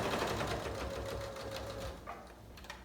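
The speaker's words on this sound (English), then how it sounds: "Now I'm sewing the very top of the mask." A sewing machine stitches the top edge of a handmade fabric mask, running in a fast, steady whir close by before slowing and stopping near the end.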